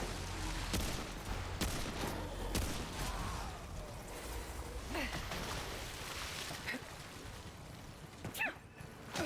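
Gunfire in the video game Remnant 2, a busy barrage of repeated shots and sharp cracks layered over a steady low rumble of game ambience, with a few louder bursts near the end.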